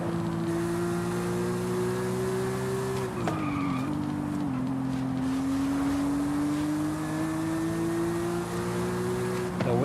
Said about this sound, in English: Just your good old high revving NA engine.